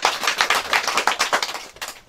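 Audience applause, close and lively, made of dense, rapid, rhythmic claps that run through the whole brief stretch and thin out at the end, with no voice over them.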